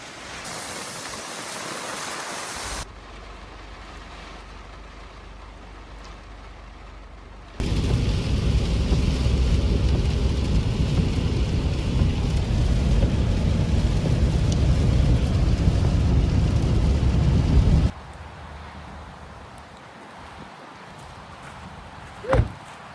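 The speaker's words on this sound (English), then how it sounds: "It's raining sideways." Heavy rain roars in a dense, steady wash, swelling much louder in the middle before easing back, with a sharp thump near the end; sideways, wind-driven rain while camping in a Honda Element at Laguna Beach.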